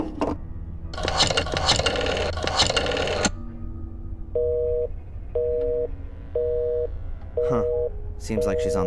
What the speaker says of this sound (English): I just wanted to call my mother, but it was busy.